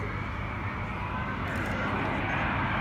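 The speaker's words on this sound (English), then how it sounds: "What an impressive aircraft is this." An Airbus A350-1000 jet airliner flies a slow display pass at the Farnborough airshow, its engines giving a steady, broad roar that swells slightly as the aircraft passes. No one speaks.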